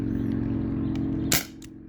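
A modified Umarex Brodax BB revolver powered by a 12 gram CO2 cartridge fires one sharp, loud crack close by, over a steady low hum, with no talking.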